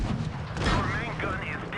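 A tank gun fires in a World of Tanks-style battle game, a Pershing shooting at a T-54, giving a loud, near boom that rolls out into a rumbling tail.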